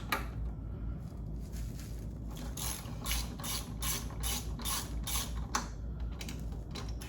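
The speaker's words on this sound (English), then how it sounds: "we can take down the calipers, that's held on by 2 12mm bolts" A ratchet works the 12mm brake caliper bolts on a Yamaha FJR1300 motorcycle, giving a steady run of close, quiet, evenly repeated mechanical clicks with no talking.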